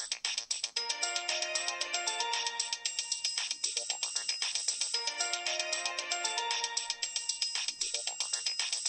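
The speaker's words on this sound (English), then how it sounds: "There is a Disney Mobile ringtone," Disney Mobile ringtone plays on a Samsung phone as a bright, looping electronic melody with a steady repeating rhythm, loud and clear with no talk over it.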